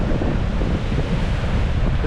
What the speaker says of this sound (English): And some of these waves